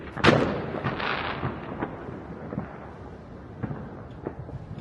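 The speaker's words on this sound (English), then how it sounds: "so you can hear the fireworks going off" Fireworks boom and crackle in the distance, a sharp opening blast followed by scattered rumbling pops echoing across an open space.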